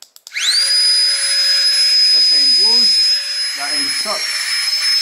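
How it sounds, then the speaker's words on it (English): A Flextail Tiny Pump 2X portable air pump spins up after two quick clicks and runs as a steady, loud, high whirring hum, while a person talks briefly over it. "To get the pump working, you just double click it."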